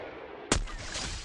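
A single sharp gunshot in the Free Fire battle royale mobile game, a sudden loud crack followed by a brief decaying tail over a dim, noisy game background.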